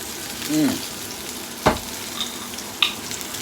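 Steak frying in butter in a pan gives a steady sizzle, with a short voiced sound near the start and a sharp clatter around the middle as the meat is turned.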